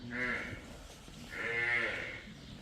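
Two long, low moos from a water buffalo on a farm nearby, each about a second long, separated by a short pause.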